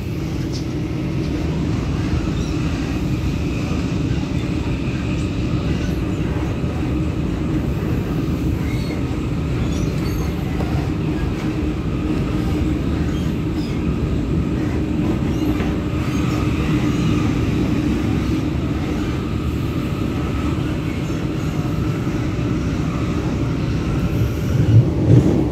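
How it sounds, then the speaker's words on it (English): An MTR Tung Chung Line K-Train rumbles along steadily on its run from Hong Kong, the carriage shaking hard, with a continuous dense low roar and rattle from start to finish and a few sharper knocks near the end. "Very hard to balance on this train just because it shakes so much."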